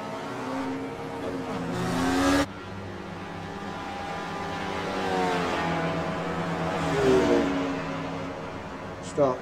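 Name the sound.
race car engine during a race, on-board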